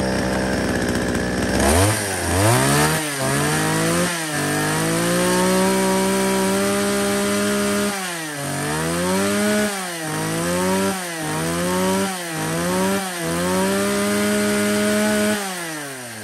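A small, light used chainsaw from a lot of Japanese-import saws, suited to cutting wood about 30 cm thick, runs loud and close, repeatedly revving up and dropping back in a steady rising-and-falling whine, with no talking.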